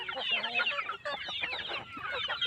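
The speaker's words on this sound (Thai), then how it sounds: "ไก่กับเป็ดบอกว่าอร่อยมากกินไม่พอเลย" Chickens and ducks cluck and chatter in a busy, continuous flock while feeding on freshly gathered grass at a Hmong hill-village farm, the calls close and overlapping with no talk.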